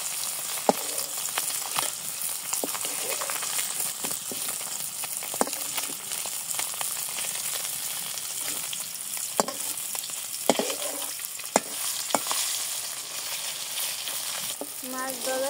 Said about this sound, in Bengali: মাছ ভাজা শেষ, আমি নামিয়ে নিই